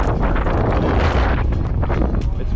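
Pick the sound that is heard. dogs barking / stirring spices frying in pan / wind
wind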